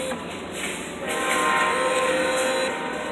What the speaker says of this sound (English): there's a train on the track